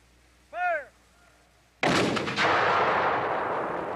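A shouted command rings out, then a Civil War cannon fires at Gettysburg with one sudden, very loud blast whose echoing roar slowly fades over the following seconds.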